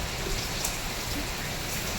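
A dangerous downpour lashed by strong wind makes a steady, dense hiss of rain pounding surfaces, loud and constant throughout without any talk.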